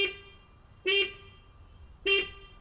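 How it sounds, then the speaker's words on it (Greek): A Renault 5 Alpine Turbo's car horn gives three short, loud toots, evenly spaced about a second apart, with quiet gaps between. "Έλατε να ακούσετε την κόρνα."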